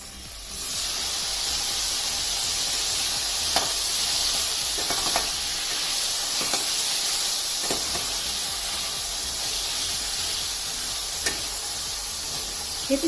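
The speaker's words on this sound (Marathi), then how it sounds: "आपण कढईत 1 टेबलस्पून तेल घातलेले आहे. त्यामध्ये आपण आता हे पनीरचे पीसेस घालूया." Paneer pieces fry in a tablespoon of oil in a kadai, producing a strong, even hiss and sizzle that holds steady from start to finish, with a few brief clinks and stirring knocks scattered over it, close up and without speech.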